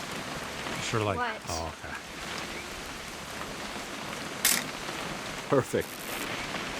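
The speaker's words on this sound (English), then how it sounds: "It's gonna rain the whole weekend, isn't it?" Steady rain falls in What Remains of Edith Finch, a constant hiss of drops filling the background while a few voices talk briefly over it.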